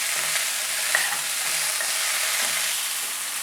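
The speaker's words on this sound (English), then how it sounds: "Our vegetables are sauteing" Vegetables sauté in a pan beside grilling fish, a steady dense hiss of frying with faint stirring knocks underneath, close and continuous.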